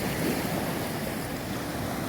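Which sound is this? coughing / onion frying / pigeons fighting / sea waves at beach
sea waves at beach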